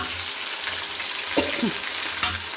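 Small shallots and curry leaves frying in hot oil for a quail curry, giving a steady broadband sizzle with a couple of brief clinks or stirs.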